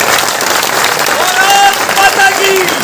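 A crowd at a large Mahashivratri poetry gathering in Timarni claps in a loud, sustained rattle, with voices calling out over the applause.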